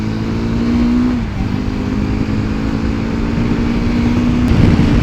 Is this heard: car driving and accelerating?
yes